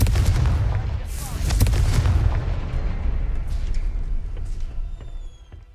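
Confringo blasting spells go off in the Hogwarts Legacy video game as a series of heavy booming blasts with sharp cracks, loud and repeated over several seconds, settling into a fading rumble.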